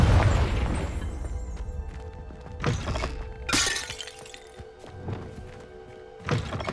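In the Hogwarts Legacy video game, a Confringo explosive spell blasts in a dusty, cobwebbed room: a booming burst followed by several sharp shattering and thudding impacts spread over a few seconds.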